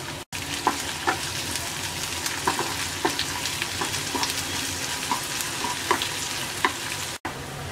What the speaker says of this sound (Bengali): পেঁয়াজ রসুনটা ব্রাউন কালার করে ভেজে নেওয়ার পর